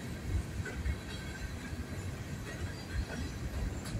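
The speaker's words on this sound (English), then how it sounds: "It is a double train to celebrate Juneteenth." A double freight train heading northbound rumbles past steadily, with continuous wheel noise, faint clickety-clack and light squealing, loud and close with no talking.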